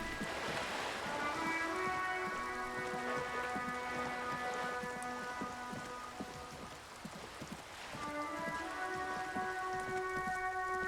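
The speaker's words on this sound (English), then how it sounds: "Rain falls on the great city of Revachol. Rain drips from the eaves and floods the gutters, washing the filth away." Steady rain falls and drips over the city of Revachol in the video game Disco Elysium, a constant patter heard under layered sustained musical tones that fade briefly in the middle before returning.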